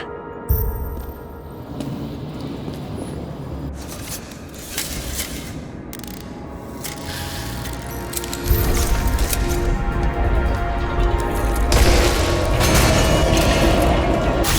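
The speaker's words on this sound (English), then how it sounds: "Maybe I can lift the chandelier." Mechanical creaking, ratcheting and clanking as a heavy chandelier is hoisted in the detective game Nobody Wants to Die, with irregular metallic knocks and a rumbling low-end swell building toward the end.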